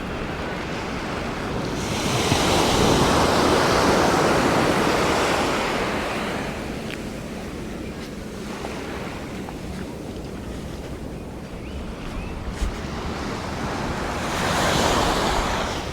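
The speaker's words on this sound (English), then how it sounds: "the beach is really nice, just like soft white sand, crystal clear blue water." Ocean surf washes in steady, rolling swells onto Bang Tao Beach in Phuket, Thailand, a soft white sand beach, rising and falling in loudness, with wind rushing across the microphone.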